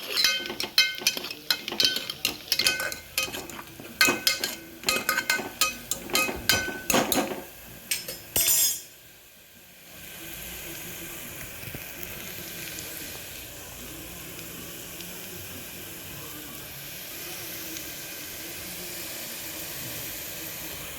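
Coconut pieces frying in hot oil in a pan while a kalathappam batter is prepared, with busy clinks and scraping of a stirring spoon for about eight seconds, then a steady sizzle and hiss continuing alone.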